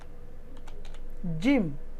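A short word is typed on a computer keyboard with a handful of quick, soft, close keystroke clicks, followed by a brief voice speaking.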